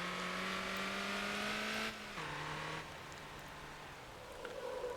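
A Mini Cooper rally car engine in Motor Town drones at a steady rev, then shifts down in pitch twice and settles into a quieter, lower hum.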